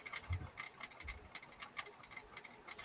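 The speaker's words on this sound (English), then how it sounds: "When a sewing machine is just going by itself, I call it chewing." A home sewing machine running on its own without foot control, giving a steady rapid mechanical clatter with faint ticking gear and pawl clicks, close and quiet, with no talk over it.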